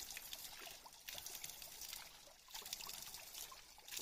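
Water from a mountain spring in Waziristan trickles and pours softly and continuously, a faint, close splashing stream with no talk.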